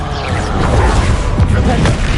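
Confringo fire spell in the Hogwarts Legacy video game, set within a dense, loud spell-casting combat mix of continuous booms, crashes and impacts with no clear gaps between them.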